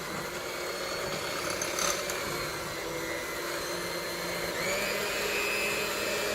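An electric mixer beats rainbow cake batter with a steady whirring motor drone, then shifts to a higher, slightly louder pitch near the end as the speed goes up. No talking.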